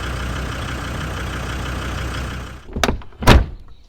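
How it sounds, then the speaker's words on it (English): Steady low diesel engine idle of a Land Rover Defender truck, then two sharp metallic clunks a moment apart as the door with rusty, loose hinges is forced shut, the second louder and closer. "The hinges are rusty and loose and pop when you try to close the door."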